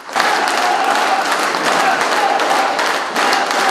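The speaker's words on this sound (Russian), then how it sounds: "поддержали громкими аплодисментами" Loud, sustained applause from an audience at a Crimean Tatar community event, greeting a speaker with steady dense clapping that fills the whole stretch without pause.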